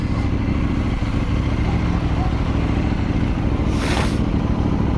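A KTM 790 motorcycle rides along under a loud, steady engine drone mixed with heavy wind rush, as the rider slows with light braking; a brief rising whoosh passes near the end.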